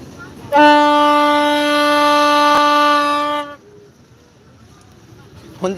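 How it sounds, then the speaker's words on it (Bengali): At a village fair, a single loud, sustained train horn blast rings out for about three seconds, then cuts off, leaving a quiet crowd murmur behind. "ট্রেনের হরেন দিচ্ছে মেলার মধ্যে"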